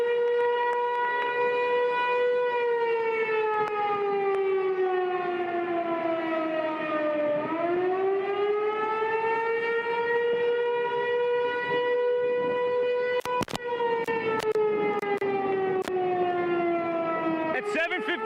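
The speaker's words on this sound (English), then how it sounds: "suddenly this tornado siren just started going off." A tornado civil defense siren wails during a heavy rainstorm, one long rising and falling tone that sweeps down, climbs back and holds, loud and continuous with a few brief clicks near the end.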